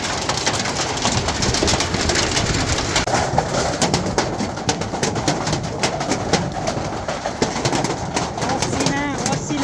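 Hail pelting a plastic cover on a farm, a dense, loud, continuous clatter of impacts lasting throughout, with faint bird calls mixed in.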